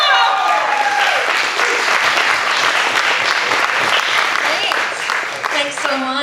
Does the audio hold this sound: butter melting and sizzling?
no